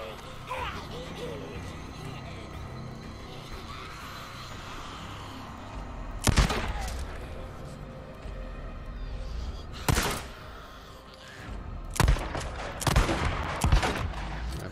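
Gunfire in the video game Days Gone: a handful of sharp, loud shots spaced a few seconds apart, including a quick cluster near the end, over a constant noisy ambient game bed.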